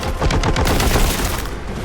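A heavy bolter in Warhammer 40k Boltgun fires a dense, loud burst of rapid booming shots, continuous and close, with no voices over it.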